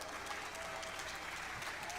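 Audience applause at a Rainbow Six Siege Operation Blood Orchid live demo presentation, steady dense clapping from a large crowd filling the room, continuous throughout at even loudness.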